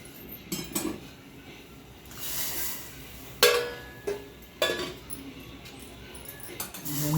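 A metal utensil stirs dal mixed into a tomato tempering in a pot with added water, giving a few quiet scattered scrapes and clinks against the pot.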